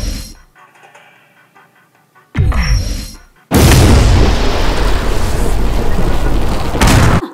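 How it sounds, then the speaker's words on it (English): Cartoon explosion sound effect: a loud, broad booming blast that bursts in suddenly and holds steady for several seconds before cutting off, preceded by a brief rising whoosh. "The explosion blew the jacket off."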